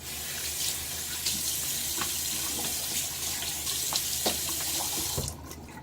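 Water running from a bathroom tap before a wet shave, a steady close hiss of flowing water with a few splashes as hands dip into it, cutting off near the end; no talking.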